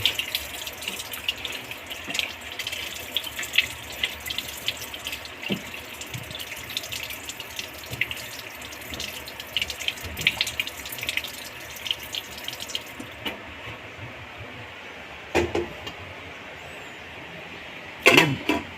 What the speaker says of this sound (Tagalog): at lalagyan po siya ng konting tubig